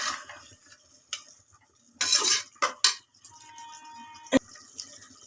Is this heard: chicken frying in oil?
yes